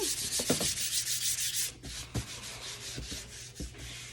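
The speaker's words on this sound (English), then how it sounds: "Go ahead and sand the whole thing very lightly." A painted wooden craft piece is sanded very lightly by hand, making close, rhythmic rubbing strokes, a dense scratchy hiss at first and then softer, more spaced passes.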